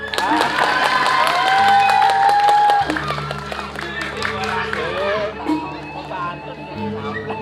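An audience at a Balinese Drama Gong performance applauds and cheers, with dense clapping loudest early and then continuing under music and a voice.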